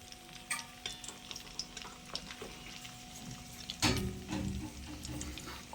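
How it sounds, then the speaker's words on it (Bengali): Cream cooks down into ghee in a pan, a low steady sizzle with scraping stir strokes; a louder burst of bubbling and stirring swells near the end, with no talk. "যতক্ষণ না পুড়ে কালো কালো হয়ে যাচ্ছে ততক্ষণ এটাকে চালিয়ে যেতেই হবে"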